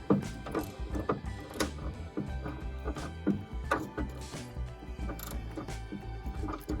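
A wrench tightens grade 10.9 bolts on a Chevy Camaro steering idler in a steady series of close ratcheting clicks and metallic ticks, repeating in short bursts with no talk.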